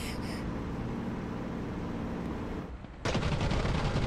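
Aircraft guns fire during a Spitfire LF Mk IX versus P-51 Mustang dogfight in the DCS flight game. A steady engine roar plays at first, then a loud, close, rapid burst of shots begins and continues.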